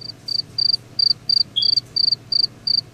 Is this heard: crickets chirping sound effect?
yes